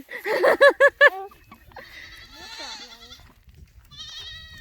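Several goats bleat at a farm, a rapid run of loud, close cries followed by softer, wavering bleats with faint movement in the background.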